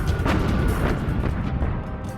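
Heavy gunfire in a naval battle: a rapid series of booming shots and blasts in close succession, loud and dense with no voices.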